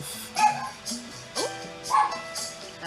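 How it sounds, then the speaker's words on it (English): A small dog barks and yips several times, near and fairly loud, with short whiny cries between the barks. "It's definitely a dog."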